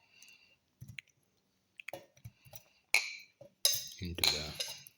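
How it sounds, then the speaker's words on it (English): Dragon fruit pieces dropped into a kitchen grinder jar for a dragon fruit and apple smoothie, giving scattered light clicks and clinks of fruit against the container, with a louder clattering burst near the end. "put in the dragon fruit"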